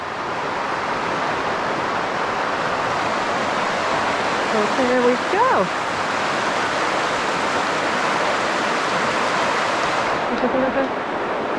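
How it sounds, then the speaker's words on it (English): A river flows steadily under an old arched stone bridge on the Isle of Mull, Scotland, in light drizzle, giving a continuous broad rushing wash with a brief spoken line over it. "Also got the river, looks beautiful here."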